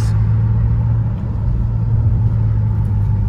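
A 560-horsepower car accelerating on the road, a steady loud low engine drone and rumble heard from inside the cabin, continuous without gaps.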